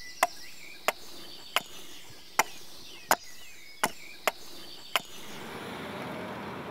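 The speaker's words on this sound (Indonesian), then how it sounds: "menggunakan kapak untuk membentuk kayu belian tersebut menjadi bulat atau berbentuk silinder" Axe blows chopping a hard belian (ironwood) log into a cylinder outdoors: about eight sharp, evenly spaced strikes ring out clearly, then fade into quiet background hiss.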